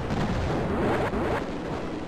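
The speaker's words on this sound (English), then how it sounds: "Just this once, I'll show you guys the dumb fire missiles." Dumb-fire missiles launching and detonating in the space combat game Tango Sector, Raptor mission: a dense, continuous roar of blasts and booms with sharper bursts near one second, loud and close, no talking.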